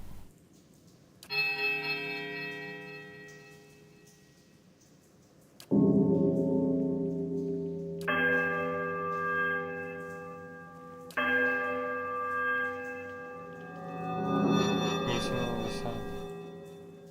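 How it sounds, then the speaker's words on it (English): Deep bells toll in the fantasy role-playing game Pillars of Eternity during a ritual scene, several separate resonant strikes each ringing out with long sustained hum and decay, the later ones overlapping into a dense, swelling clang. "I recalled an Ethesian rite involving the ringing of bells"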